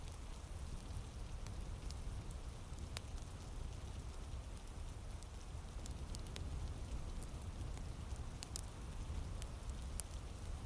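Rain falls steadily on the old stones of Hadrian's Wall, a dense even hiss with scattered sharp drip clicks, continuous and close with no voices.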